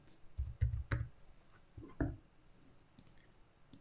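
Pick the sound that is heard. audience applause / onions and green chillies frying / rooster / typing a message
typing a message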